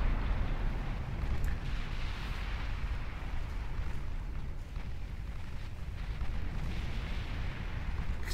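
Naval gunfire and explosions rumble continuously from a burning dreadnought-era warship in the Battle of Jutland game Ultimate Admiral Dreadnoughts, a dense, steady low roar of blasts and booms with no voices.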